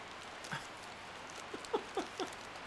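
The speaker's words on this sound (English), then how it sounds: "Man, the rain is coming down again." Rain falls as a soft, sparse pattering: a few light, separate taps over a quiet hiss, with no voices.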